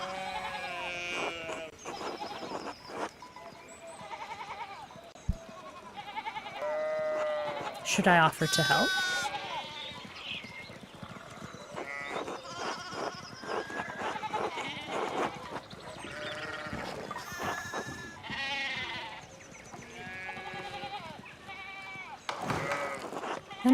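Sheep in the Pentiment video game bleat repeatedly after hopping a fallen fence rail, their cries mixed in and out of steady conversation between characters across the scene.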